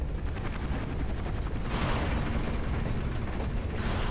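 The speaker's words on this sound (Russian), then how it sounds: "Ну вот не надо нам опять вертолеты" A helicopter in the video game TimeShift gives off a loud, continuous rotor roar with a rapid chopping pulse, close and steady throughout, with no talk over it.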